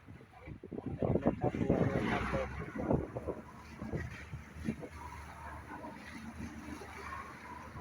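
Strong wind at sea roars steadily across a boat, with broadband gusting noise and buffeting against the microphone throughout, loud and continuous.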